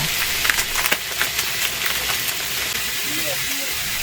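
Steady hiss and crackle of sausages sizzling on a grill at a riverside campsite, constant and close, with faint scattered pops.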